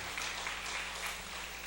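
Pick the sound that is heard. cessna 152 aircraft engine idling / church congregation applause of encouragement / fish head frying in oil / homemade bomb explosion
church congregation applause of encouragement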